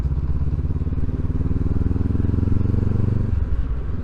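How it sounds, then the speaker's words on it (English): A 2023 Honda CB500X parallel-twin motorcycle fitted with an aftermarket Arrow exhaust can, idling and revving nearby with a throbbing, burbly pulse that rises in pitch before settling back down. "It has an exhaust can, arrow, which makes it sound a bit fruity."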